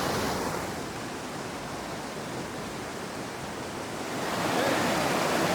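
Steady broadband rush of a river waterfall beside a campsite on the Lofoten Islands, Norway, a continuous hiss that swells slightly near the end, with no voices.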